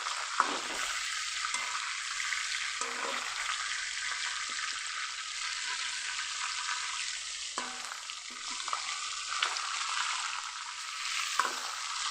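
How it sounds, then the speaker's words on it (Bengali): Large pieces of mrigal fish, from a 3 kg fish, fry in hot oil with a strong, continuous sizzle. Occasional stirring scrapes and clinks come through, and no one speaks. "সবগুলো মাছ ভালো করে ভেজে নিয়েছি এখন তেল থেকে তুলে নিব"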